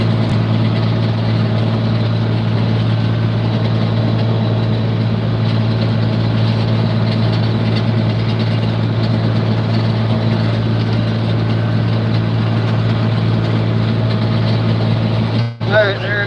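A hay baler ties a bale while the tractor engine runs steadily behind it, a loud, constant low idling drone throughout with a brief mechanical clunk near the end.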